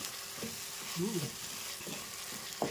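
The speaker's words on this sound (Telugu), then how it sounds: "బాగా వేగిన తర్వాత టమాటా పేస్ట్ వేసాక ఇదో ఎర్రగా ఇలాగా యాగాల బ్రౌన్ కలర్ వచ్చే వరకు" Tomato paste frying in a pan for a rui fish curry makes a quiet, steady sizzle, with a handful of light stirring taps scattered across it.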